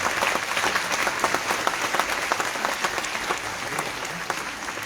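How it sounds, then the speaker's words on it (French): An audience applauds an orchestra after a musical introduction at a New Year's greeting ceremony, steady dense clapping that holds throughout at a fairly loud, even level with no talk. "Vous pouvez encore les applaudir."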